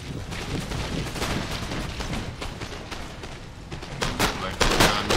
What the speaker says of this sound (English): our troops are shooting very well